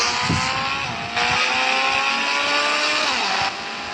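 A car drifting along a road, its engine droning loudly and steadily with shifting pitch throughout, without talk.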